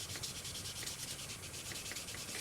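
Fine sandpaper rubbing on a plastic part of a Polar Lights Star Trek Enterprise model kit, a quiet, steady back-and-forth scratching heard up close with no voices.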